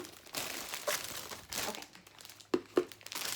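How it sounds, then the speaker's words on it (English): A plastic sampler bag is opened from a preorder unboxing of Melted Moose items, giving soft scattered crinkles and then two sharp crackling bursts near the end, close to the microphone and with no voices. "It's probably really crinkly."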